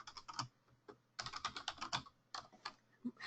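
Someone typing on a computer keyboard: quick bursts of light plastic key clicks in uneven runs with brief pauses between, close and quiet, with no talking.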